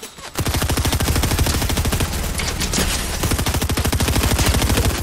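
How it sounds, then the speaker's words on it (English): Sustained rapid-fire P90 bursts in Fortnite, a dense, loud rattle of shots running almost continuously with only brief dips, close and dominant with no talk over it. "time to put my P90 to good use"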